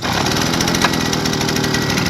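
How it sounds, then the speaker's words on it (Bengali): A machine engine running steadily at a Malaysian palm plantation after being filled with water and used oil, a continuous close, loud mid-pitched drone like a small motor idling, with no talking. "ওদিকে একটা মেশিন স্টার্ট হয়ে গেল"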